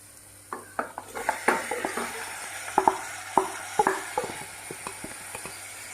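Marinated chicken sizzles as it is stirred into browned onions and tomatoes in a pan for a chicken curry, with a steady frying hiss and a series of sharp scraping and clacking utensil strokes up close.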